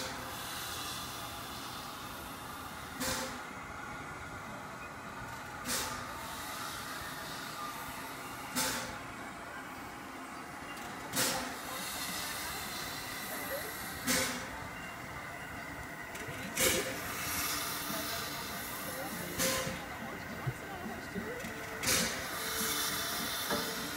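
Tweetsie Railroad steam locomotive #12 sits idling with a continuous steam hiss, broken by regular sharp puffs or releases roughly every three seconds, moderately close, with no talk.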